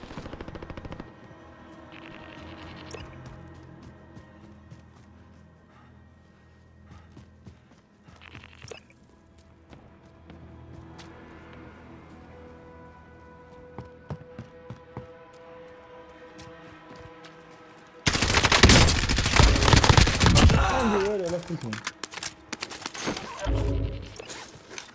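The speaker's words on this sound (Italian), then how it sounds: "Colpi di medio calibro qui." Medium-caliber gunfire in Call of Duty Modern Warfare Warzone breaks out in a loud, dense burst late on, after a long stretch of quieter game ambience with faint scattered sounds.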